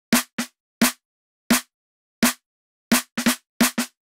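An isolated sampled snare drum from Addictive Drums is struck alone, about ten sharp, dry hits at an uneven rhythm with a few quick doubles. Each one is close and punchy and decays fast into silence.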